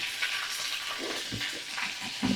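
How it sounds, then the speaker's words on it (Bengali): Beans frying in a pan after salt is added, a steady soft sizzle with faint stirring scrapes, heard close with no talking. "এখন আমি ভালো করে ভাজা করে নেব"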